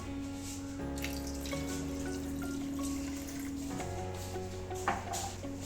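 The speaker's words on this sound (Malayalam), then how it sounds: "ഇനി നമുക്കിതിലേക്കൊരു 3/4 ഗ്ലാസ് വെള്ളം ചേർത്ത് കൊടുക്കാം." Water poured from a glass into a pressure cooker holding beef for a restaurant-style beef kondattam, a steady close pour and trickle running for several seconds with a brief splash near the end.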